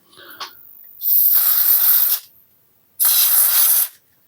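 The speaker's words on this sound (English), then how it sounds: "I'm going to give this a quick squirt with some contact cleaner" Two bursts of contact cleaner sprayed onto a ZX Spectrum+ keyboard during a refurbishment, each a loud, close, steady hiss lasting about a second, separated by a short silence, with a faint click just before the first.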